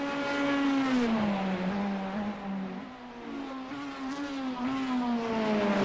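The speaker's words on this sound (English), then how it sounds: "You can really hear them shifting them synchronized transmissions up and down here as they work around the oval." GT3 race cars on the Charlotte Roval, engines roaring loudly and steadily, pitch climbing and dropping as the synchronized transmissions shift up and down, sustained close-miked racing noise with no talk.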